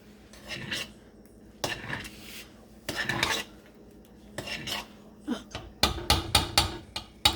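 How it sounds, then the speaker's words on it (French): A utensil scrapes and clanks around a pot of Haitian-style oatmeal in repeated stirring strokes, the metallic scraping growing faster and more rhythmic toward the end, close and alone. "On va le brasser."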